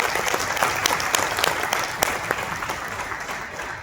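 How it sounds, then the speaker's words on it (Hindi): Audience applause at a business meeting, dense crowd clapping that holds steady for several seconds before tapering slightly at the end. "एक बार 9 प्रोडक्ट के लिए जोरदार तालियां होनी चाहिए"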